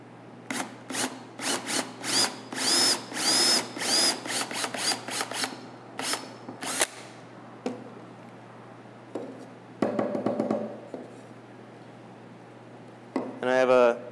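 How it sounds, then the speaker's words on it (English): A drill bores into wood with a 3/4-inch bit in repeated short bursts, loud and close, with ratcheting mechanical clicks, then quieter handling noises and a brief whirring spin at the end. "I'm just going to kind of drill down."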